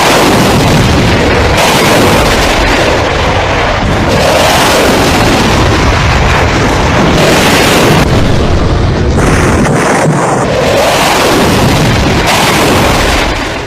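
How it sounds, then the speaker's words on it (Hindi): Loud, continuous booms and blasts of missile fire and explosions attributed to a Rafale jet, rolling rumbles overlapping one another without pause, heavily saturated and dense. "कुछ इस तरह रफाल ने मिसाइल फायर की"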